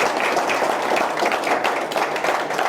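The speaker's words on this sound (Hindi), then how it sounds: "इनके लिए एक बार जोरदार तालियों से स्वागत करते हैं" Seminar audience at a motivational wellness event applauds loudly, a dense continuous patter of many hands clapping close by, steady throughout the short stretch with no voice on top.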